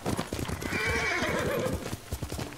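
In the video game Ghost of Tsushima, a white horse trots with crisp, rapid hoof clops while letting out a long, loud whinny in the middle, up close, with no talking.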